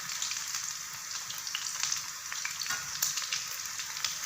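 Boiled chicken legs frying in oil over medium heat, a steady bright crackling sizzle with scattered pops, close and continuous, a small clink at the very end.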